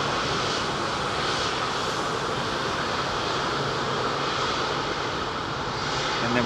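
A British Airways Boeing 787-10 Dreamliner rolls at Heathrow, its engines giving a steady, loud broadband roar that holds evenly throughout without any talking.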